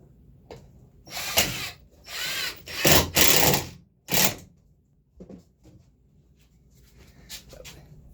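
A power drill drives a screw into drywall being hung, in several loud whirring bursts of a second or so each with short pauses between, then quieter handling noises.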